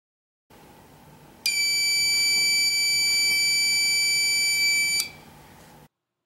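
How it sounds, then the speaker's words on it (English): A portable VOC gas detector sounds its audible alarm, one steady shrill electronic tone lasting about three and a half seconds over a faint background hum. "The audible alarm is configurable to sound at lower or higher levels of VOCs and can be set by the user."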